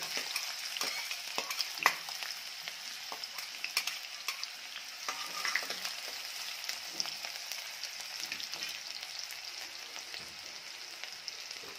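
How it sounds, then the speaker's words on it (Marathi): Onion frying in hot oil for a drumstick curry, a soft continuous sizzle with crackling pops and light stirring scrapes throughout, fairly faint and without speech. "तेल चांगलं गरम झालं की यात आधी कांदा घालून घ्यायचा आहे."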